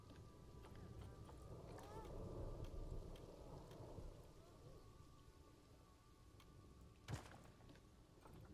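Rain patters steadily inside the Planet Zoo game, swelling slightly before easing, with a sharp thunder crack near the end, all quiet and low in level.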